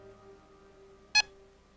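A single short electronic beep sounds from a ghost-hunting device, brief and clear against a near-silent room.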